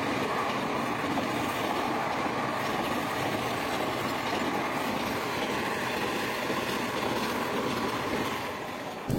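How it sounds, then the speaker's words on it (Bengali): The Falaknuma Express passenger train running on rails, a steady, loud, continuous rumble and rattle of wheels and carriages passing close by throughout, with no voices. "ট্রেন নাম্বার 12704 সেকেন্দ্রাবাদ থেকে হাওড়াগামী ফলকনামা এক্সপ্রেস।"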